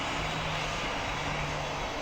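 Aircraft engine in a flight video game, a steady droning roar with a faint low hum, constant in loudness and unbroken for a couple of seconds with no voices.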